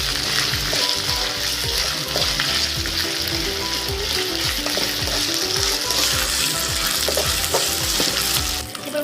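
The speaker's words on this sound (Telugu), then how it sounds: "ఇప్పుడు అవి బాగా వేగించాలి, బ్రౌన్ కలర్ వచ్చే వరకు." Ginger and spices fry in a kadai for Telugu-style okra pulusu, giving a steady loud sizzle. A spoon scrapes and stirs against the metal in a rapid, regular rhythm throughout, with no talk.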